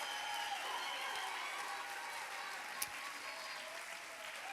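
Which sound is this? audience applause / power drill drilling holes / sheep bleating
audience applause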